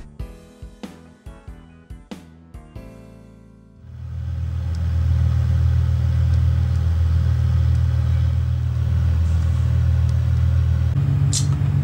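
Cessna 182 single-engine piston aircraft in a flight simulator, a few sharp clicks and starter bursts followed by a loud, steady low engine drone that holds evenly, with no voices.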